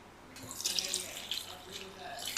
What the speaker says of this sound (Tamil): தண்ணி ஊற்றி ஃபஸ்ட்டு கலந்து வச்சிடணும்